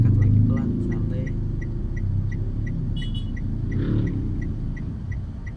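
A car engine hums steadily and pulls away gently in first gear as the clutch is slowly let out during a first road driving lesson, a loud close rumble with a voice talking over it and faint regular ticking.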